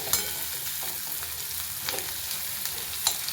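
Chopped onion, green chilli and curry leaves frying in hot oil, a continuous close sizzle and crackle with light stirring scrapes throughout, no voices.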